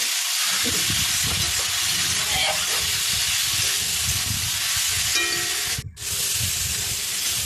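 Green banana paste with cumin, coriander and ginger fries in hot oil with a loud, steady, dense sizzle and hiss that runs throughout and briefly cuts out near the end.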